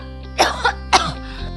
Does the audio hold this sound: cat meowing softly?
no